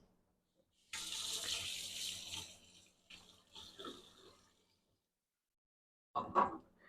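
Tap water runs over fingers at a sink in a home kitchen, a close hissing rush in two bursts, then a short splash after a quiet pause.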